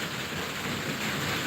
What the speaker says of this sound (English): So it's drizzling